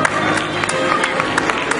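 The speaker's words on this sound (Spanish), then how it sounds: "para los cuales igualmente pido un fuerte aplauso" Applause at a charity fiesta in Antequera: a short stretch of dense crowd clapping with a few louder claps standing out, heard close and alone.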